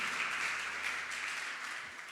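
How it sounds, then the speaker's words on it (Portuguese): A church audience applauds during a sermon, a steady, full crowd of clapping hands that holds evenly and tapers a little near the end. "Pode aplaudir a Jesus"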